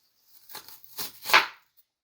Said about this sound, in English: we're going to dice the onions